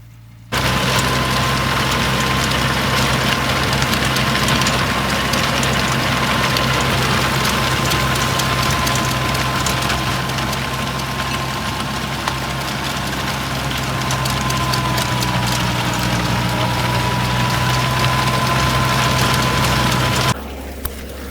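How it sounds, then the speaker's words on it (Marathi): A 24 HP Kubota tractor with a rotavator attached runs in low first gear, giving a loud, steady engine drone with a constant hum throughout and no talk. "आता लो फर्स्टवर ट्रॅक्टर चालू आहे"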